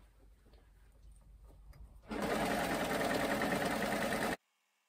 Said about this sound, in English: I'm going to just start top stitching everything. I'm going to start off with the hem.